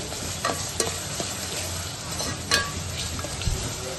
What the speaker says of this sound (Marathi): आता आपण त्याच्यामध्ये घालूया आलं लसूण थोडंसं, आणि पुन्हा जरासं परतून घेऊया